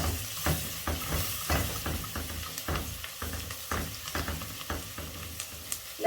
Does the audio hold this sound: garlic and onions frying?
yes